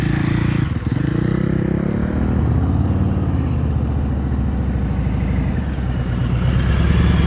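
A motorcycle engine idles and rumbles at low speed during slow-speed riding practice, a loud, close, steady low throb with some clatter and scraping.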